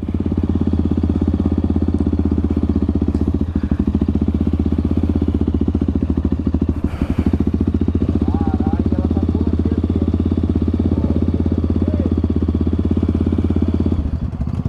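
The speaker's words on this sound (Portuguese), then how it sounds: "Desliga a moto aí" A Honda CRF dirt bike engine runs on a trail, a loud steady idle with a rapid mechanical chug close to the microphone, carrying on unbroken for nearly fifteen seconds and then dropping off at the very end.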